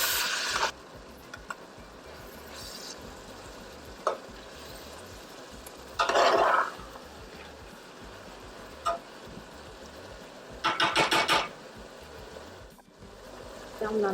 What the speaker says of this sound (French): Je tourne le tout.